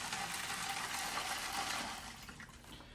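A full pitcher of water pours steadily into a EUHOMY nugget ice maker, a continuous close splashing stream that tapers off slightly at the end.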